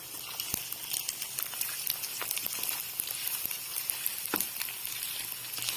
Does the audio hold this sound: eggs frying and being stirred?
yes